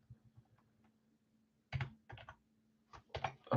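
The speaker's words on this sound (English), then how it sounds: "I'm already typing" Typing on a computer keyboard during a live group break, with short clustered bursts of clicky keystrokes separated by pauses, close and moderately quiet over a faint steady hum, no talking.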